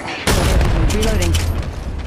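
Apex Legends Mobile gunfire bursts out suddenly, a loud close volley of rapid shots and booms that rolls on without pause, with a voice speaking under the shooting.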